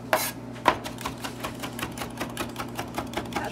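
A knife mincing ginger on a cutting board makes rapid, even chopping taps, close and steady at several strikes per second after two heavier opening chops, with no talking.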